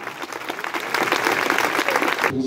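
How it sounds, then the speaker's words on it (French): Crowd applause at the centenary of a bullfighting club in an outdoor arena, dense clapping that swells and holds steady before cutting off. "On peut les applaudir bien fort."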